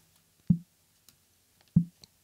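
Two muffled, thuddy snare hits about a second apart, band-limited and dull, with faint small clicks between them.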